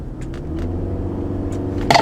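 A 2009 Toyota Camry Hybrid pushed to full throttle while struggling for power: a low, steady engine rumble heard from inside the car, with a few faint clicks and a sharp knock at the end.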